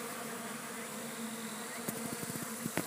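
Honeybees from a varroa mite-free hive buzz steadily around an open colony with larvae, a continuous close drone with a few sharper wingbeat bursts toward the end.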